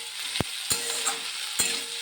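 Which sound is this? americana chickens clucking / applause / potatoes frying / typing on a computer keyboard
potatoes frying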